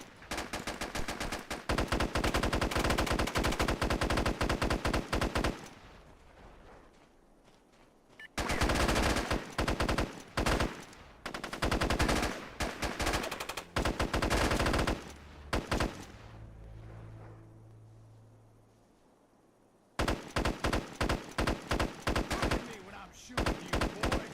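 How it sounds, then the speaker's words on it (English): Video game gunfire in SOCOM Fireteam Bravo: long, rapid machine-gun strings of sharp, loud shots, broken by a few short lulls and a low rumble, with faint speech now and then. "Look at me when I'm shooting at you, boy."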